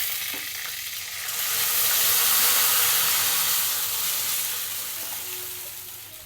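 A hot tempering (baghar) poured into potato and egg lentil dal gives a broad hissing sizzle that swells, holds loud for a few seconds, then gradually eases off, with no talking.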